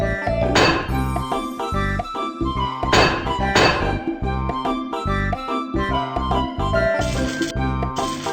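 Steel components being hammered in the Baby Panda city-building game ring out as repeated metallic clinks and thunks, evenly paced and bright, layered over a loud, steady backing tune.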